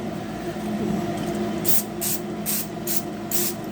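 Five short, bright hissing bursts of an aerosol cooking-oil spray used while repairing a car trunk seal, evenly spaced over a steady low background hum.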